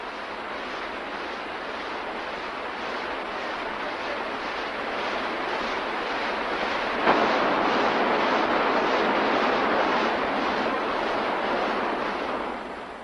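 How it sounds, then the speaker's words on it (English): Rushing water at the Yagua waterfalls, a broad steady roar that swells slightly midway with a brief splash, heard alone without voices. "we went to visit the Yagua waterfalls."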